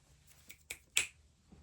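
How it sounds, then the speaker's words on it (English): Three or four crisp finger snaps ring out one after another, close and fairly quiet, with short gaps between them in an otherwise hushed room. "I have to snap my fingers every once in a while"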